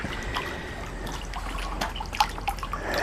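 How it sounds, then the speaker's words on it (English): Water trickles and drips steadily into containers set out for washing quartz crystals, a continuous close pour with small splashes and no voices. "we're filling these containers with water"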